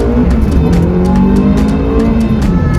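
A Ferrari F430's naturally aspirated V8 revs hard and steadily toward 8,500 RPM, a loud, continuous mechanical roar with a rising, sustained pitch.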